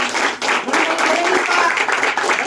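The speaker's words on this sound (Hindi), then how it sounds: "जोरदार तालियों से आप आभार करें।" An audience at a public gathering gives loud, continuous applause, a dense wall of clapping that holds steady with only a brief dip.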